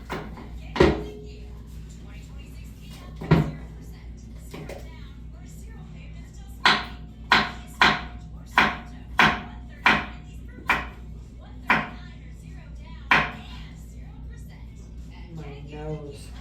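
Vegetables chopped with a kitchen knife while cooking dinner: a run of sharp, fairly loud knife strikes on a board, a few scattered and then about ten in a steady rhythm, with faint talk and kitchen noise around them.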